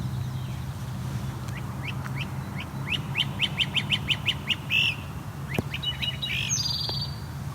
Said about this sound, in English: That was the great crested flycatcher.